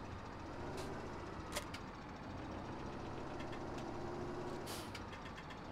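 A tractor engine in Farming Simulator 17 drones steadily at a low, faint level throughout. Brief brighter hisses rise above it now and then.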